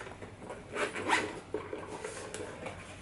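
A zipper running along a soft fabric bag that zips on three of its four sides, heard as a few brief rasping pulls close by, fairly quiet, with no talking.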